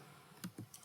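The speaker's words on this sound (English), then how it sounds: "So let me type" Three soft keystrokes on a computer keyboard while typing into the Python interpreter, spaced unevenly in under a second, quiet and close against a faint room hiss.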